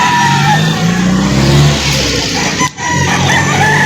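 A rooster crows amid the steady din of a busy poultry market in Lipa City, Batangas, with other fowl clucking and a car engine revving in the background.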